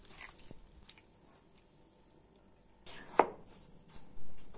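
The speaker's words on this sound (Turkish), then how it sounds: "3 tane patates dilimliyoruz." A knife slicing through raw potatoes, a few soft cuts early on and then a sharper, louder chop against a board near the end, close up with quiet gaps between and no talking.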